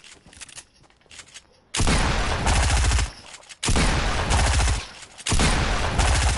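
Pistol gunfire in the video game Fortnite, loud sustained bursts of rapid shots in three long volleys with brief quieter gaps between, close and without talk.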